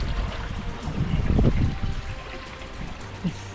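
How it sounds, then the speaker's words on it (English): Water trickles and splashes as someone wades across a slippery creek on a wilderness hike, with footsteps sloshing close by and briefly louder partway through. "Crossing Wild Dogs Creek."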